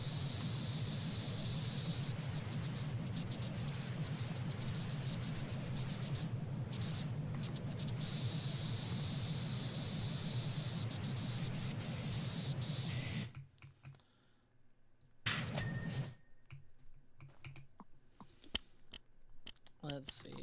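Steady broadband hiss of a pressure washer spraying in Powerwash Simulator runs continuously for about thirteen seconds, then cuts off, leaving quieter clicks and a short burst of spray, with a voice talking over it.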